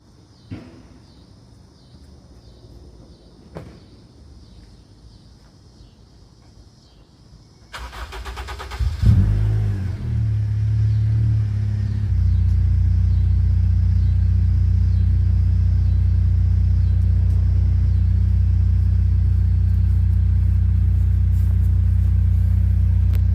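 A Honda Accord with a K-series engine swap and new exhaust cranks and fires up, then settles into a loud, deep, steady rumbling idle through the exhaust, preceded by quiet clanking.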